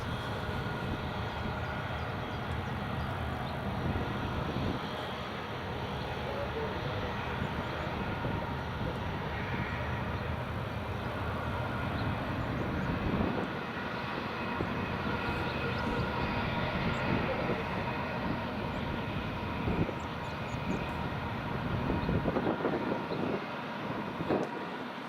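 A Qatar Airways airliner at Edinburgh Airport produces a sustained jet engine roar lasting well over twenty seconds, fairly loud and even with slight swells, while voices talk intermittently beneath it.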